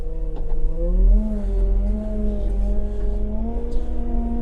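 A Weidemann T4512 loader with CVT transmission pulls away, its engine a steady close drone that rises slightly in pitch as the machine moves off, with no talking.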